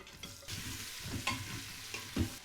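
An onion drops into hot oil in a pan and sizzles steadily, with scraping stir sounds and a few louder bursts as it is moved around; no one speaks.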